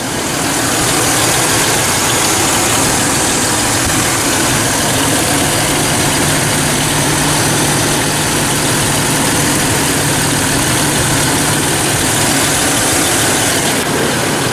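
A car engine idles steadily throughout while a 390 amp alternator is being tested, a loud, constant low rumble with mechanical hum, recorded close to the engine bay and free of talk.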